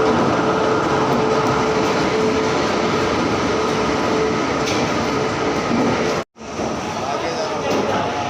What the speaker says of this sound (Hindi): वेब 7 इलेक्ट्रिक लोकोमोटिव के साथ आनंद विहार से बलिया तक चलेगी।